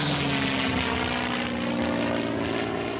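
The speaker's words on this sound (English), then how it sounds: "one of the few remaining B-17s, the famous flying fortress of World War II, should pass over the Brickyard, escorted by the most effective fighter planes of the war, legendary P-51 Mustangs" A B-17 Flying Fortress escorted by P-51 Mustang fighters passes overhead above a motor speedway, a steady, throbbing roar of piston propeller engines that stays loud and constant throughout, with no talking.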